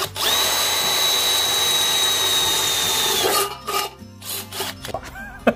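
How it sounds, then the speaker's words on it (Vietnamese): Power drill from an OZITO drill-bit sharpener demonstration boring into box-section steel, a steady high whine for about three seconds, then stopping with some clanking and handling noises, close and loud. "Rồi giờ mình khoan thử trên sắt hộp coi sao nha."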